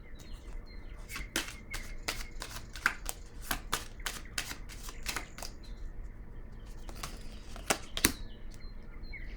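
Oracle cards being shuffled by hand during a card reading, a quick run of crisp riffling snaps and flutters followed by a few scattered slaps, close and fairly quiet with no voice.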